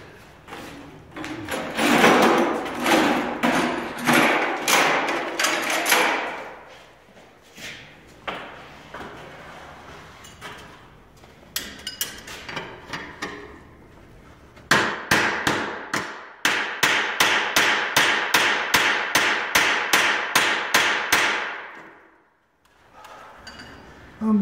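A hammer strikes a cold chisel during a garage door installation, in two long runs of sharp, evenly spaced metallic blows, near and loud, with scattered clunks and a quieter gap between them.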